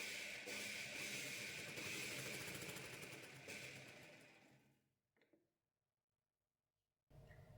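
A sewing machine stitches the shoulder seam of a katori blouse, a steady loud mechanical whir running for about five seconds before stopping, followed by near silence and a brief noise at the end.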